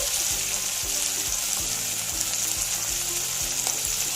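Chili powder and turmeric sizzle and fry in a pan for a Bengali urad dal jhal bora batter, with a steady hiss and repeated scraping strokes of stirring at a close, even level.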